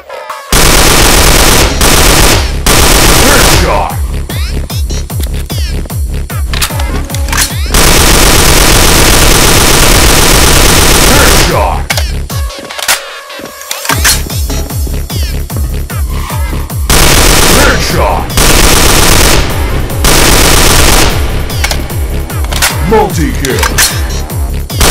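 Sustained bursts of rapid automatic fire from an RPK-74M machine gun in a shooter video game, loud and close, with a short pause partway through and continuous rattling volleys before and after.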